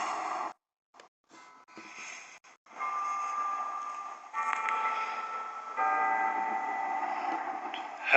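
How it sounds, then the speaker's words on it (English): A bell rings in Helper, Utah, a steady ringing tone with faint metallic ticks, starting after a brief quiet gap and swelling louder toward the end, alone with no voices. "Hear the bell?"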